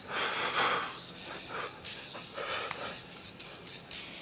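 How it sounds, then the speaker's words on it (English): During a workout set, heavy, close breathing comes in ragged gasps and huffs over a steady background hiss. "The breathing."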